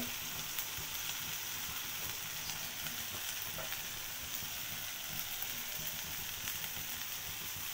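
Spice masala sizzles and fries steadily in a pan while Rui fish roe is being cooked, a continuous close hiss with faint stirring scrapes throughout and no talking.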